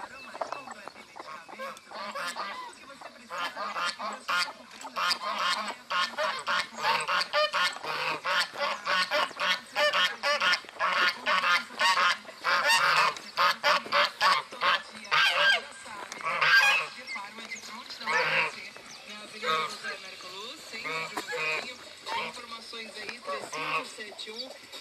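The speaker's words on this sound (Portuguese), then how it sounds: "Tá com cara de ser perua" Turkey hen calling on a rural farm, repeated honking gobbles and clucks in dense rhythmic bursts, fairly loud and close, with people talking over the birds throughout.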